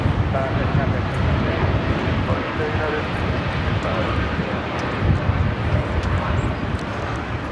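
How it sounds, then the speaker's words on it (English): A United Airlines Boeing 787-10 Dreamliner taking off from Los Angeles International Airport, a loud, continuous rumbling jet roar with wind buffeting, under talk. "This is United Airlines 1855 taking off to Newark on the 787-10 Dreamliner"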